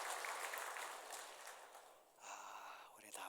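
Members of a Korean church congregation applaud a member's grandson home on leave with a short, dense round of clapping that fades after two seconds, followed by a voice speaking.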